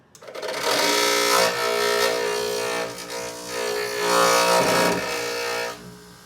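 Bench grinder running off an EcoFlow River 2 solar-charged portable power station, a steady close motor whine with a dense harmonic hum that holds at full level throughout, with slight swells and no speech.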